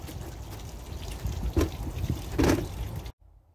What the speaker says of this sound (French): Et puis là on va faire la vidange comme d'hab quoi.